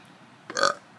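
A single short, close burp after drinking Sprite, rising out of near silence and fading quickly.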